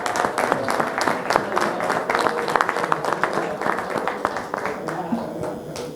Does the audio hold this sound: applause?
yes